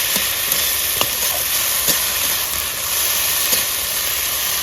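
Ginger paste stirs and fries in a hot pan, a steady bright sizzle with occasional soft scraping taps of the spatula, close and continuous, without speech.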